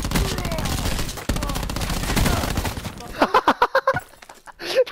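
Rapid automatic gunfire in Call of Duty Black Ops 4, a loud sustained stream of shots followed by a string of sharp separate bursts, with game effects around them.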